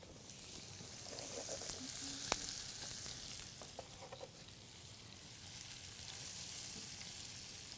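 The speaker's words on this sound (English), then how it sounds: "sauteing it up." Zucchini and squash sautéing in butter and oil, a steady, fairly faint sizzle with occasional soft clinks of stirring.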